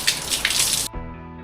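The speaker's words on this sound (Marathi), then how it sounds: "सार्वजनिक नळावर आम्हाला पाणी भरावं लागतं." Water gushes steadily from a public tap for under a second, then cuts off abruptly, leaving a faint hum behind.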